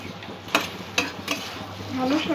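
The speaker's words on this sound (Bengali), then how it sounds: "ভালো করে সমস্ত মশলাটা একটু কষিয়ে নেব।" Spices and potatoes sizzle in a pan for a potato-okra curry while a spoon stirs them, giving a few distinct scraping clacks over a steady frying hiss.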